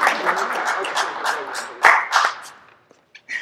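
A burst of clapping from a small crowd for award winners at an awards evening, loud at first, then thinning out and fading to a few scattered claps.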